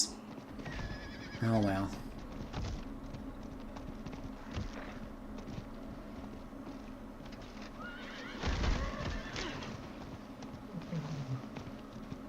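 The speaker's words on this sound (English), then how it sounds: "I'm riding a boring horse." Horse neighs and hoof clip-clop sound from horseback riding in the video game Diablo IV, with a whinny near the start and another later, under steady game audio and intermittent talking.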